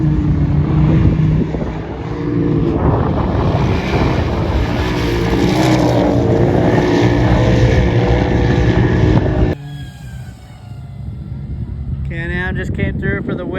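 Can-Am UTV at a Red Bull Sand Scramble race in the Little Sahara dunes, its engine a loud, continuous near roar with heavy wind buffeting, cutting off sharply into quieter rumbling toward the end.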